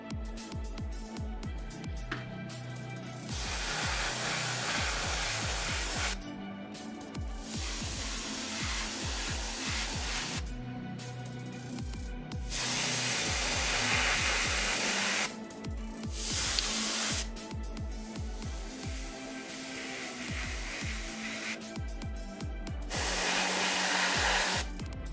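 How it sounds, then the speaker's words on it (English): An airbrush sprays paint onto gnoll miniatures in several long, steady bursts of airy hiss, separated by short pauses, with a low rhythmic pulsing running underneath throughout. "now I'm just gonna go around and do some Xenophil on everybody with the airbrush"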